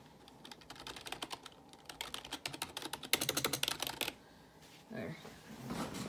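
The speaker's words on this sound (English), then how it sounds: "This keyboard is the Razer Synosa Chroma. These are the Razer membrane switches." Typing on a Razer Cynosa Chroma keyboard with membrane switches makes a close, fast, uneven patter of soft key clacks that bunch into bursts, then tapers off with a bit of handling noise at the end.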